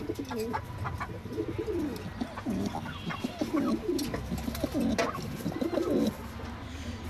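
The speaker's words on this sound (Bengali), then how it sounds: "আজকে আপনাদের এই কবুতরগুলো দেখাচ্ছি।" Several pigeons coo close by in repeated soft throaty rolls that overlap one another, with faint chirps and light background noise and no talking.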